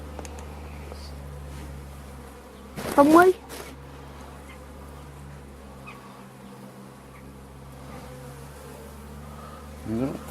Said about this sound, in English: That's more bees than another one.